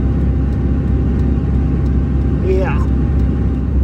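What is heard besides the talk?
car engine straining, stuck in second gear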